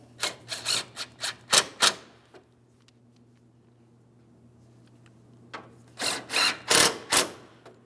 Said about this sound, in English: We'll tighten our two 10mm bolts, one for each side.